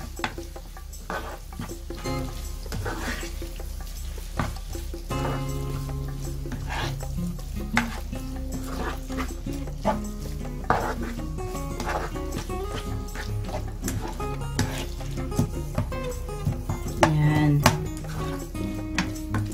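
Carbonara stirred in a pan, repeated scraping and light sizzling close by, with a dog whimpering and barking intermittently in the background.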